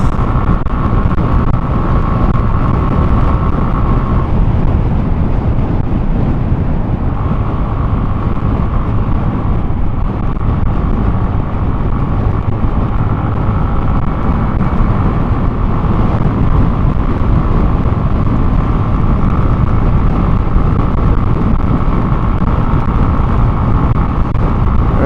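Hero Glamour X 125 commuter motorcycle cruises in fifth gear at about 84, a steady engine drone buried under heavy rushing wind noise throughout.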